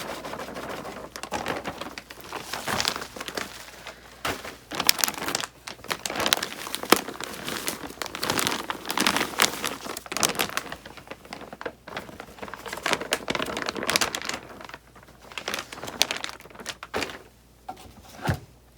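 Loose soil pours and rustles out of crinkling plastic bags in irregular bursts, close by, with scattered soft thuds.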